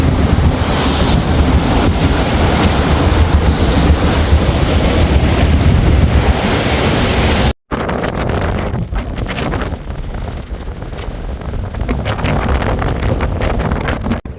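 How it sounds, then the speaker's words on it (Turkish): Strong wind buffets the microphone over rushing waves and water splashing against a sailing boat in rain squalls on the Aegean Sea, a loud continuous roar with a brief dropout midway. "Bayağı bir böyle macera, sallantılı, dalgalı bir seyir şu anda sağanaklarla."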